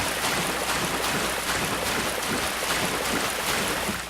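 Rushing waterfall in Dark Souls, a steady, dense wash of falling water that stays loud and even throughout, with no voices over it.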